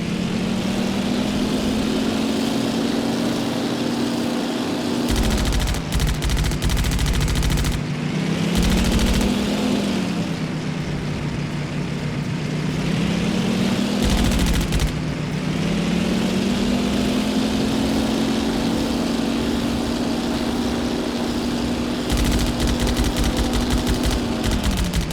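A WW2 fighter plane in Damage Inc. Pacific Squadron drones with a loud, steady engine roar throughout, its pitch dipping and swelling in slow waves, with brief bursts of noise breaking in at intervals.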